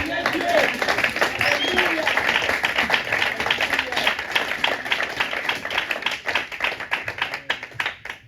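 A church congregation at a Sunday service applauds, a dense, steady clapping from many hands that fills the room and thins out toward the end, with a voice over it.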